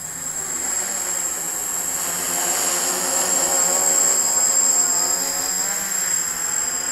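Quadcopter propellers in flight in a light crosswind, a steady droning buzz with a high whine held at fairly even loudness throughout, no voices.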